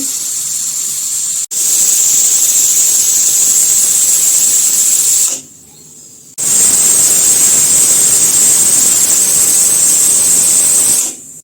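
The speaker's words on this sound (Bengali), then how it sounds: "তো হাঁসের মাংস প্রেসার কুকারে সিটি উঠে গেছে" A pressure cooker whistles steadily while duck meat cooks inside, a loud sustained hissing shriek that cuts off briefly near the middle, then resumes at full strength before stopping.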